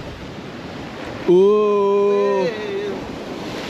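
Wind blowing steadily along a rocky Jamaican seashore, a continuous broadband rush, interrupted by a short vocal exclamation held for about a second.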